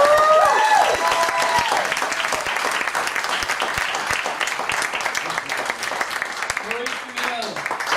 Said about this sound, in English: So right now, I want you to give a nice, warm welcome, a lot of applause for our host, Casey Everhart.